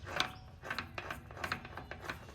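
The ring and pinion gears of a 2008 Yamaha Grizzly 80cc ATV spin with soft, repeated ratcheting clicks and light mechanical whirring, quiet and close, in a steady uneven rhythm.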